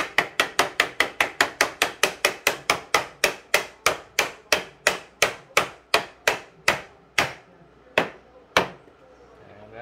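Hammer taps seating modular hex drawers into place, about two dozen sharp, even knocks in quick succession that slow and space out toward the end, close and clear with no talking.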